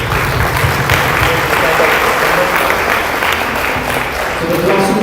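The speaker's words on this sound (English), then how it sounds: "A big round of applause for Amit Paji" An audience at a Sikhi guided-introspection stage event gives a big, dense round of applause. The clapping is steady and loud throughout, with crowd noise mixed in.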